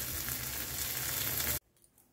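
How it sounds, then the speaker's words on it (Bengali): Okra frying in a pan gives a loud, dense, continuous sizzle up close that cuts off abruptly into near silence. "আজকে বলেছিল বলে আবার ঢেঁড়সটা একটু ভেজে দিচ্ছি"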